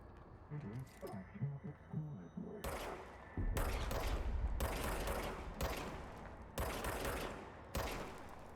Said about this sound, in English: Fire the service weapon, R2.